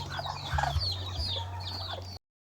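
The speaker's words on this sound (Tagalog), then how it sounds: "Tapos ito pa mga sisiw ko." A hen clucking with chicks in a rural Mindanao yard, low steady clucks throughout with high thin peeps from the chicks over them, close and fairly soft, ending abruptly.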